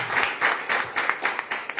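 A church congregation at a revival worship service breaks into brisk, moderately loud applause, many hands clapping in a dense irregular patter for a couple of seconds.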